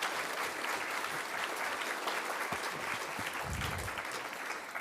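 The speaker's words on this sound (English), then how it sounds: "So I'd like to give them a round of applause." Steady, dense audience applause filling the whole stretch at a conference wrap-up session honoring a panel and faculty, even and sustained with only faint voices mixed in.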